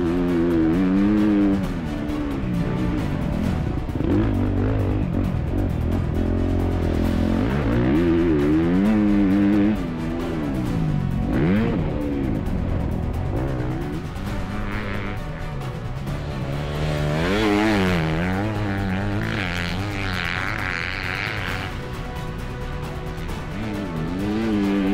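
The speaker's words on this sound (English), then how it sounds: "Sean's coming towards the end of his hot lap now on board the Honda CRF250" A Honda CRF250R dirt bike on a hot lap roars loudly and steadily, its engine pitch rising and falling through repeated revs and gear changes across the run, with no talking.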